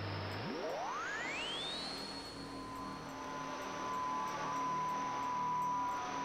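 Radio tones in the game Oxenfree: a pure tone sweeps steeply upward and holds, then a steady lower sine tone sounds over a soft static hiss, loud and alone.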